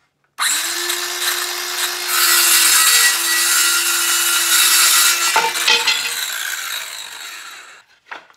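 A handsaw cuts through a wooden dowel for the leg of a plant pot stand, a close, steady rasping stroke running for several seconds before stopping abruptly.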